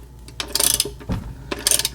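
A ratchet clicks in short bursts while tightening the oil drain plug on a supercharged Audi 3.0T engine, with close, crisp mechanical ratcheting in several quick runs.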